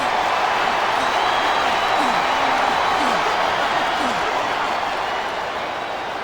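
A large arena crowd in WWE SmackDown vs Raw 2007 roars and chants steadily throughout, a dense constant wall of noise beneath commentary voices.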